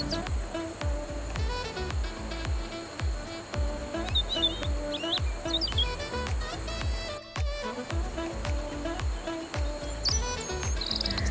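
Swiftlets chirping inside a cave where a small river flows, quick high tweets and calls repeating over steady rhythmic music, at moderate distance and fairly faint.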